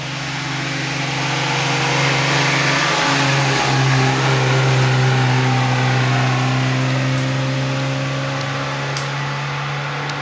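A 1980 Goggomobil 400 vintage car climbs a hill during an oldtimer hill-climb race, its small engine droning steadily and revving as it passes close by, loud and continuous throughout with no talk.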